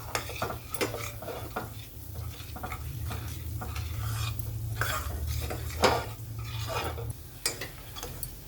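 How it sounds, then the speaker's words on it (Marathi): Dry spices stir-fried in a pan for dhaba-style paneer masala: a quick, regular run of spatula scrapes and clinks on the metal over a constant low sizzle, close up, no voices. "हे कोरडे मसाले याच्यात मिक्स करून चांगलं परतून घ्यायचंय"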